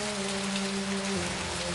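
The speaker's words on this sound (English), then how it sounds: "Just a drizzle." Light drizzle falling steadily outdoors under gathering clouds, a soft continuous patter close by with no voices.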